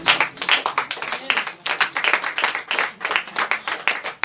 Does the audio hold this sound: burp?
no